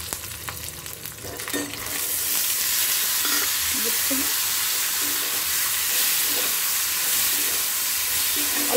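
Chickpeas with coconut fry in a pan, starting with a softer scrape and then building into a steady, close hiss and sizzle as they are stirred, with no voices.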